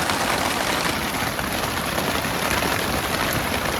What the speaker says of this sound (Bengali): পুরো একদম কলকলে বৃষ্টি, সেই লেভেলের বৃষ্টি হচ্ছে